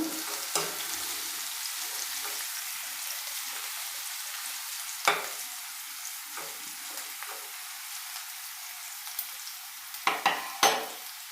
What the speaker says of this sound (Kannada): ಈಗ ಸ್ವಲ್ಪ ಫ್ರೈ ಆಗಿದೆ